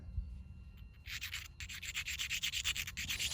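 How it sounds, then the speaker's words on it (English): An agatized coral spearpoint is ground down on both faces and beveled by hand, making a soft close scratchy rubbing that starts faint, then strengthens into steady repeated strokes. "Now by grinding both sides down and beveling this"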